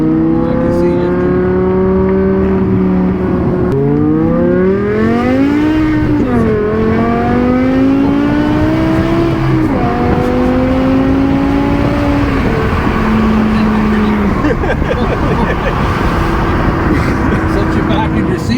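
BMW M6 with a V10 engine and F1-style exhaust, revving hard through rising and falling pitch sweeps with loud harmonic wail, heard close up over people talking excitedly.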